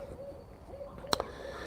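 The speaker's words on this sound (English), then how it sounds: "we got 3 owls going on in my yard right now" Several owls hooting in a backyard at night, soft low hoots repeating faintly in the distance, with a brief sharp click partway through.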